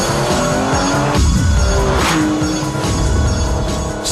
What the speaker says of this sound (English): When I pull this paddle here, the clutch disengages, the cogs are swapped, and then the clutch re-engages, all in 100 milliseconds